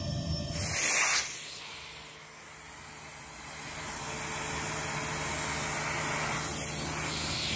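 Henry HVR200-11 vacuum cleaner running with its hose attached, giving a steady rushing hiss of suction with a slow wobbling swell, after a brief sharp burst at the start.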